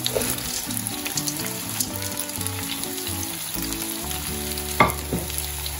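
Mushrooms, green onion and sweet corn fry with meatballs in a pan, making a crackling sizzle up close, with stirring and a sharp clatter near the end, and no speech.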